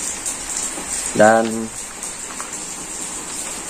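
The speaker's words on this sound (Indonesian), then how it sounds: "ini lagi hujan teman-teman, cuacanya lagi hujan tuh ya, ini lagi hujan" Steady rain falls on an outdoor fish-rearing area in cool weather, a constant broad hiss that runs the whole time, with someone speaking briefly over it.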